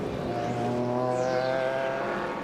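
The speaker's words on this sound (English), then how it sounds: "passing that V8 BMW" A V8 BMW race car passes during the 12 Hours of Sebring, its engine note rising and then falling away with a Doppler sweep over about two seconds, fairly loud, with other car noise underneath.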